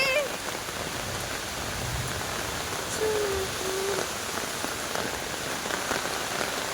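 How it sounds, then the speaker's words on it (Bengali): Heavy rain pours down in strong wind, a dense steady patter of drops on surfaces close by, with a few faint tonal squeaks in the background. "খুব হাওয়া চলছে, খুব বৃষ্টি হচ্ছে, খুব বৃষ্টি"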